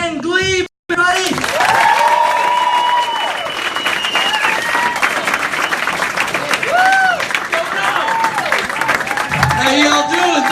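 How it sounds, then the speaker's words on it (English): A comedy club crowd in St. Louis applauds comedian Ben Gleib with loud, sustained clapping and scattered cheers. A voice speaks over it at the start, and whistles and shouts rise through the ovation. "Please give a nice round of applause for Ben Gleib, everybody."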